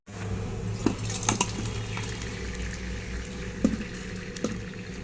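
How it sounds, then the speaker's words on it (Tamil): Water is strained off pressure-cooked ponnanganni greens, pouring in a steady trickle while metal pots and utensils clink and knock now and then, close by. "இந்த தண்ணியை வந்து நம்ம வடிகட்டிக்கலாம்."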